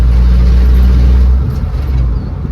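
A 1990 Ford F150 pickup with a 4.9L inline-six, rear brakes not working, pulls through third and fourth gear, its loud engine drone dropping as the revs fall at a shift midway, recorded close up with no talk.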